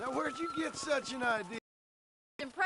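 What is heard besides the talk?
No everyday noise stands out behind the speech.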